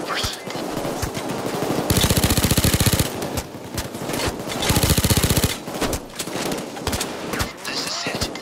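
Sniper and automatic gunfire in the video game Payday 2, Slaughterhouse heist, dense rapid bursts of shots in two long volleys with scattered single cracks between, loud and close.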